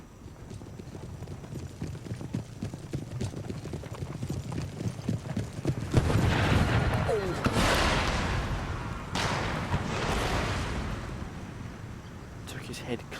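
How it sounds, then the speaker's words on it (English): Cannon and musket fire rolls across a battlefield in the video game Empire: Total War, with heavy booming blasts in the latter half over constant clattering hooves and distant battle noise. "Begin the guns, begin firing."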